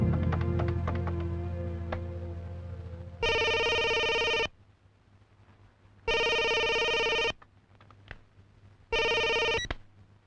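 A telephone rings in a home in three long, loud electronic bursts with silent gaps between them, after some brief clattering at the start, with no talking.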